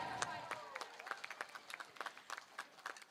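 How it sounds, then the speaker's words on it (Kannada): Scattered clapping from an audience after a young community troupe's stage song performance, faint and uneven with individual claps standing out, plus some voices in the background. "ನಮ್ಮ ಯುವ ತಂಡಕ್ಕೆ ಒಂದು ಜೋರಾದ ಚಪ್ಪಾಳೆ"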